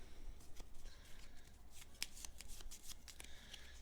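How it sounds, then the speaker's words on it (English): Cards from the Battlestar Galactica board game are shuffled close up, a quiet run of soft riffling, flicking and papery slaps in uneven bursts, with no voices. "Shuffle these up."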